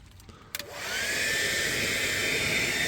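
Heat gun warming window tint on an Audi TT: a couple of faint clicks as it switches on, then a steady, loud rushing blower hiss that holds constant.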